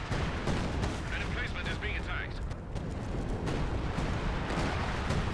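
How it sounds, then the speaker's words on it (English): A Concentration Barrage of artillery with airburst shells lands in Company of Heroes 2, a dense run of booming blasts and sharp cracks in quick succession, with a voice talking over the battle. "Does Concentration Barrage just now get airburst shells?"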